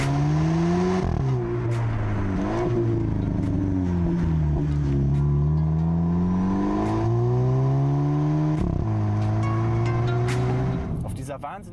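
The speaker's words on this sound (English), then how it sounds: "the GTI delivers a satisfyingly athletic roar" A Volkswagen Polo GTI engine roars as it accelerates along a road of hairpin curves, the revs climbing and dropping through gear changes, loud and steady throughout.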